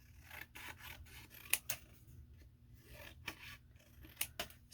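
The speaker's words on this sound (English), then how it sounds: "I'm just going to cut around here" Scissors snip around a piece of paper for a book Rolodex in a quiet room, several soft scraping cuts with a few sharp metallic clicks spaced irregularly.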